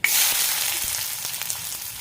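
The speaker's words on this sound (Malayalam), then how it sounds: "ചെറിയുള്ളി അരിഞ്ഞതും ചുവന്നമുളകും ഇടാം" Chopped shallots and red chillies hit hot oil with mustard seeds in a kadai, giving a loud, steady sizzle with a few soft crackles throughout.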